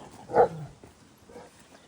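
A single short, muffled dog bark sounds at moderate distance, followed by quiet background and a faint second noise.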